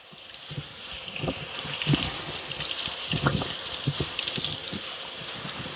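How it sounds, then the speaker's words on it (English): Aquarium filter charcoal rinsed under running water, a steady close gush with splashing and trickling as the granules are handled, continuous and fairly loud throughout. "I still need to keep rinsing because I don't want any of that going into my aquarium"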